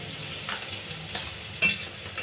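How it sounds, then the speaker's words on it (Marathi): Green chili and ginger-garlic paste fry in a pan, a soft continuous sizzle with a few light stirring scrapes and a sharper metallic clink near the end. "हे चांगलं फ्राय करून घेऊया थोडंसं"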